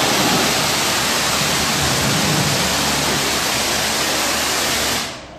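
Water sprays hard and steadily onto a ceramic-coated car, a loud, continuous hiss that cuts off abruptly just before the end.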